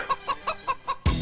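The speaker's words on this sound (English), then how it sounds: "play them with chicken noises over them or something" Rhythmic chicken clucks repeat about five times at an even pace, layered over faint radio music before a louder burst of sound cuts in at the end.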